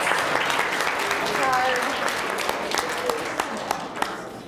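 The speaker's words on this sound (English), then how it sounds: "Let's give some huge applause to Coon Rapids." Applause for the Coon Rapids team at a Battle of the Books competition, a sustained crowd of clapping hands with a few cheers and voices mixed in, steady and full throughout.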